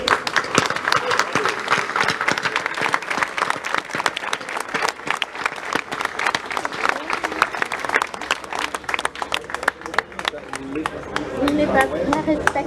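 Audience applause at a ministerial ceremony, dense sustained clapping from a large crowd throughout, with voices murmuring underneath.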